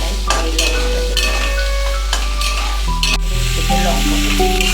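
Onion sizzles loudly in a pan alongside fried potato while chowmein is prepared, a continuous close frying hiss broken by several stirring clatters and tonal scraping sounds, with a low steady hum beneath.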